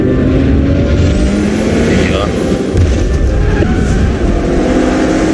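Racing car engine from the Forza Motorsport video game roars loud and steady, with a dense, continuous drone that fills the whole stretch.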